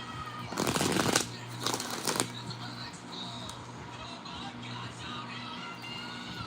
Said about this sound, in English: Get a good shuffle now.